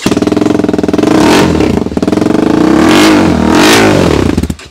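A TVS Apache RTR 310 motorcycle fitted with a full-system Akrapovic exhaust revs loudly and up close, with its engine rising and falling through several strong blips without any pause.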